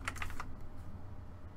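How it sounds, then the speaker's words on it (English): Typing on a computer keyboard, a quick cluster of four or five close key clicks, then a low hum with no talking. "Why am I playing with the keyboard?"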